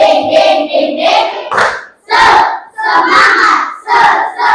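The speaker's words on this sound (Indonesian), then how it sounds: "Kita kasih tepuk semangat dulu di kelas." A classroom of students performs a spirit clapping chant: loud, close group shouts in rhythmic bursts, punctuated by claps, with brief pauses between phrases.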